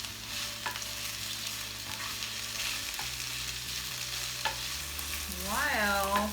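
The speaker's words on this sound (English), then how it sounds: "While the onions are sauteing, you want to salt and pepper each veggie." Onions sautéing in a pan for Korean japchae give a constant close frying hiss with occasional light utensil taps, steady throughout with no voices.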